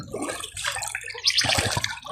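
Water gushing from a breach in an old pond built under a king's rule, pouring across crop fields in a steady, loud rush with splashing and no voices.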